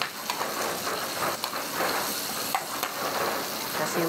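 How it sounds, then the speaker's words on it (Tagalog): Onion, tomato and chili sauté in a hot pan, a steady soft sizzle with occasional small crackles and stirring taps, fairly quiet throughout. "Magigisa ko ng sibuyas,"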